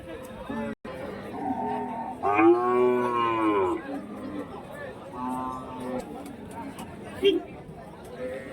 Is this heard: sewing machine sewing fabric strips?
no